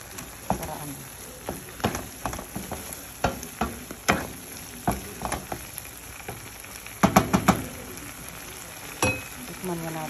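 Sponge gourd (patola) and egg frying in a pan, a steady sizzle broken by repeated scraping and clinking strokes of a utensil, fairly close and with no talk.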